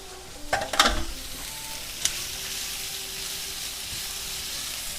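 Peppers and vegetables frying in a pan over fairly high heat, a steady soft sizzle broken early by a few sharp stirring scrapes and a brief clatter, then settling into an even hiss.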